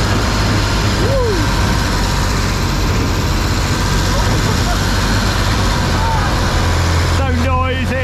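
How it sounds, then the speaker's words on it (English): Monster truck engine at a theme park show in Serengeti Park Hodenhagen, a steady loud rumble with low drone throughout, under nearby crowd and talking voices. "Over the crash cars. Whoa! Good suspension. Woo! Monster truck."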